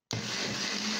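A kitchen blender whirs into motion, blending guava leaves with water into a loud, steady high-pitched motor whine that starts abruptly and continues close by.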